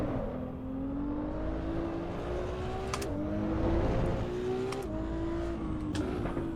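Race car engine lapping Brands Hatch in the Assetto Corsa Evo sim, a steady loud drone rising through the revs with several quick upshift drops and brief dips as it brakes for corners.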